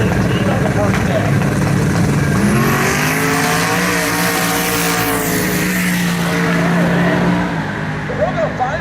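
A nitrous-fed, LS-swapped 1991 Trans Am drag races at Northern Michigan Dragway in Kaleva, its engine climbing in a loud, sustained rising roar while a commentator talks over it.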